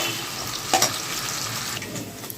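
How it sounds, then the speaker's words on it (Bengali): Potato pieces fry in hot oil in a pan, giving a steady close sizzle and hiss with a brief clatter early on. No one speaks. "এবার আলুটা আমি তেলের মধ্যে ছেড়ে দেবো।"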